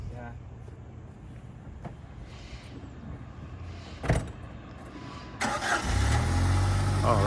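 A 1998 Jeep Wrangler's engine cranks and catches near the end, rising into a rough idle after a quiet stretch with faint voices and a brief knock.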